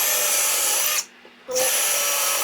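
Drill boring a spindle hole into a wooden Windsor chair seat, a loud, steady high-pitched whine that stops briefly for about half a second and then resumes at full speed, close up, with no talk.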